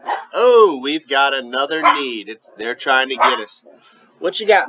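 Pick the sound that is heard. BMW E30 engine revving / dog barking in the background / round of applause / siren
dog barking in the background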